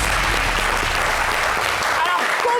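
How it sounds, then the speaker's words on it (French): Studio audience applauding on a French variety show after the host calls for a round for a returning singer, a dense, steady wash of clapping throughout with a faint voice briefly over it near the end. "on peut applaudir"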